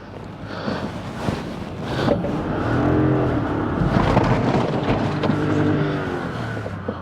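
A car driving on beach sand at South Padre Island: engine noise rises as the car pulls away and picks up speed, with gusty wind buffeting the microphone, loud and close.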